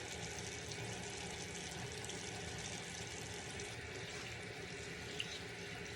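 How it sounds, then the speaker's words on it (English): Steady, continuous rush of tap water running from a bathroom faucet while a makeup beauty sponge is rinsed and rubbed with bar soap, broadband and even throughout with no voices. "Rub it under the faucet a little bit."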